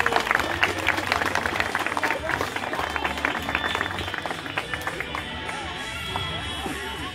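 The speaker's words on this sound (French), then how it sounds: "sous nos applaudissements, messieurs dames" Scattered clapping from an audience, a quick uneven patter that thins out toward the end, with faint voices underneath.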